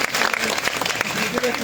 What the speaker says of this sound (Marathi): अमर सरांसाठी एकदा जोरदार टाळ्या होऊन जावे